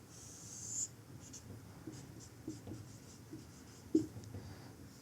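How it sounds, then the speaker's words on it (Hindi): Pen or marker scratching out marks on paper or a board while a physics problem on waves on strings is worked through, a quiet run of short strokes with one sharper tap, no talking. "मैं यहां पे लिखता हूं"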